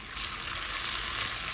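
Hot liquid poured over a wheat and lentil mixture: a short, steady hissing gush of pouring liquid, close and fairly quiet, with no talking.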